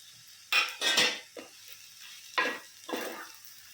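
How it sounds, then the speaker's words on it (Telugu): Cut potatoes dropped into coconut masala in a pan, a few close bursts of clattering and sizzling with metal scraping against cookware, separated by short quiet gaps and no speech. "ఇప్పుడు మనం కట్ చేసి పెట్టుకున్న ఆలూస్ వేసేద్దామండి."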